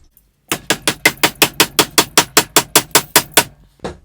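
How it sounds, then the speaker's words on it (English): A hand plane is used as a hammer, its body striking a wooden workpiece in a rapid, even run of about fifteen loud, sharp knocks, followed after a short pause by one final blow. "Never use your hand plane as a hammer"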